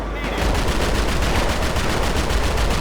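Rapid, continuous automatic gunfire from a mini tank in a modded GTA V game, a dense unbroken stream of loud shots that runs nearly the whole time after a short lead-in, with no talk over it.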